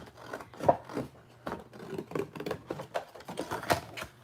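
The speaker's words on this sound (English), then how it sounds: "I don't have my big trimmer, so I'm just going to cut this by hand" Paper being cut by hand with scissors instead of a trimmer, a run of close, crisp snips and crunches in quick uneven succession.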